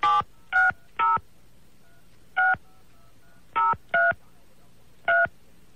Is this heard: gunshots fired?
no